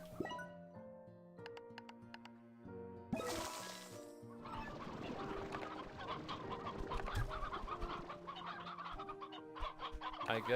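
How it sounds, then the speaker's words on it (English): Hens clucking inside the video game Slime Rancher 2, repeated cartoonish clucks over game music and chimes, with a burst of noise around three seconds and busier layered clucking afterward. "We'll keep the roosters in here and we'll take the hens."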